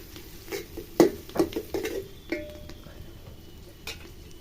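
A spoon stirs three bay leaves in hot oil in a pot for vegetarian khichuri, making a few knocks and scrapes against the metal over a soft sizzle, close up and without speech.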